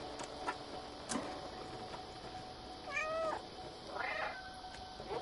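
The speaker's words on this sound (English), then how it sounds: "I gotta meow at the right time." A cat meows in the video game Stray, two short meows about a second apart, moderately loud over a steady game soundtrack with faint ticking.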